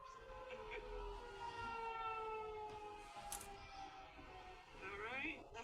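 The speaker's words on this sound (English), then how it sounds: "Alright, that was the sirens. Hope you guys enjoyed hearing a warning test from Oklahoma." Oklahoma tornado warning sirens sound during a test on December 24th, a loud, steady wailing tone with harmonic overtones that rises in pitch near the end. Faint background sounds accompany the wail.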